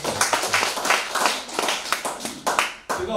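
A studio audience claps together for about three seconds, a dense, steady patter of many hands at close range with no talk over it, tapering briefly near the end.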